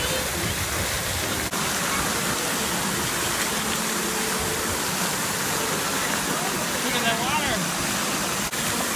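Water flows at a fountain at an outdoor harbor market, a constant, loud rushing splash that runs unbroken throughout, with a voice speaking faintly under it.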